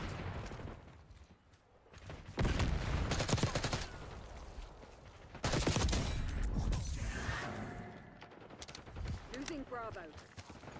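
Bursts of automatic gunfire in Black Ops 6 multiplayer, two loud sustained rattling volleys with sharp shots between, close and dominant, with a voice talking briefly near the end.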